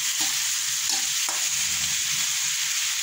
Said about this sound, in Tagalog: Atin muna sasangkot tayo bago natin sabawan.